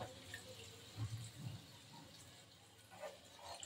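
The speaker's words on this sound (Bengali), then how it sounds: "এবার দিয়ে দেবো পরিমাণ মতো জল।" Water poured into a pan of vegetarian beetroot and carrot curry, a quiet, continuous splashing trickle with faint kitchen background.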